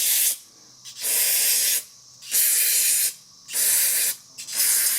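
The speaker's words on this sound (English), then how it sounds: "Just take some carb cleaner." Carb cleaner is sprayed onto the foam pre-filter from a two-stroke leaf blower's air filter canister, in about five loud, close hissing bursts separated by brief pauses.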